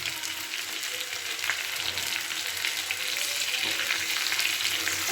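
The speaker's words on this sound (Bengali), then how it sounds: "আমি একটুখানি সাদা জিরে ফোড়নে দিয়ে দিলাম।" White cumin seeds and pointed gourd sizzle in hot oil in a pan: a continuous close crackling fry with faint stirring, steady and loud with no voices.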